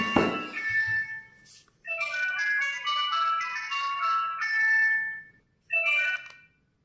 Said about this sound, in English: excuse my phone calls coming in.